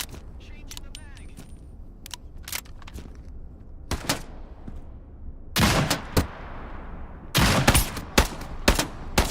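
Gunfire in the video game Into The Radius 2, sharp shots and short bursts ringing out between quieter stretches, with heavier clustered fire toward the end.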